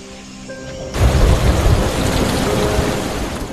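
Steady heavy rain in a film scene about prisoners of war in a dense jungle, a dense roaring wash that swells suddenly after a quieter moment and then pours on continuously, close and full.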